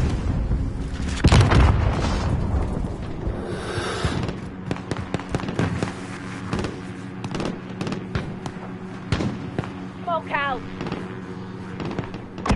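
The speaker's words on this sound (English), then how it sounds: "Got mortars incoming!" Mortar shells explode in a PS4 video game, with a string of booming blasts and sharp cracks in quick succession over constant battlefield noise, loud and close throughout.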